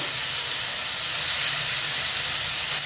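Finely chopped tomatoes drop into a hot pan for a dhaba-style egg keema masala and sizzle as a loud, steady, close hiss of frying with no pause.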